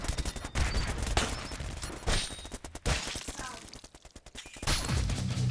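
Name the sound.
dual SMG gunfire in video game Brutal Grounds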